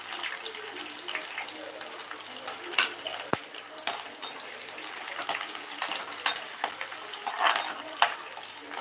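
Food frying in a pan for a Vidarbha-style dish of leftover flatbread, stirred with a utensil, giving repeated scrapes and clinks over a hissing sizzle, close by, without speech.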